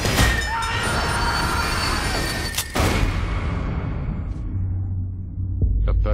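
A train rumbles steadily along the rails, a continuous rolling clatter with a brief squeal midway and a heavier low rumble toward the end.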